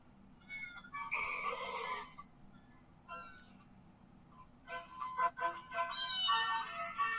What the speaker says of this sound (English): Is that a cat I hear in the background?